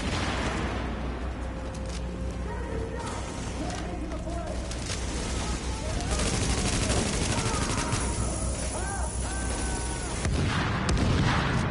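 Dense, continuous gunfire and shooting from The Division fills the scene, with heavy booms and rapid bursts that carry on loud throughout, mixed with game ambience.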